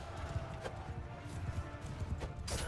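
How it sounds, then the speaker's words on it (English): In Mount & Blade II Bannerlord, a fast horse gallops in a battle, its hooves drumming in a quick, even rhythm. The beats come at moderate loudness under faint background game noise. "This is one fast horse."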